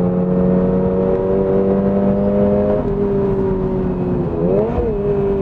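A Toyota GR86 sports car's boxer engine with six-speed manual hums at a steady drone, then shifts pitch as it revs up and settles again, loud and close with no voices.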